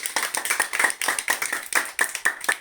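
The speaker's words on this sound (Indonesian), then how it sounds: "Oke, tepuk tangan dulu." Hands clapping in a school classroom lesson, a quick uneven run of distinct claps from a small group, close and fairly crisp, with no talk over them.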